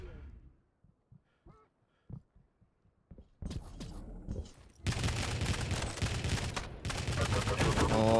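Heavy machine gun fire in a competitive shooter match breaks in as sharp, loud sustained bursts after a stretch of quiet, scattered thumps, with a commentator talking over the action.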